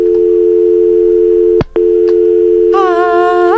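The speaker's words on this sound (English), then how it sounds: "all I'm hearing is an obnoxious dial tone" A loud, steady telephone dial tone hums, briefly cuts out, then returns as other tones join near the end.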